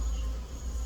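Honeybees from an opened beehive, frames being lifted out during a colony inspection, drone as a steady low, continuous buzz that holds evenly for the whole second with no voices.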